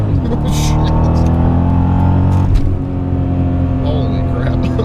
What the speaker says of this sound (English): It downshifted there, and that was first gear, and that was fast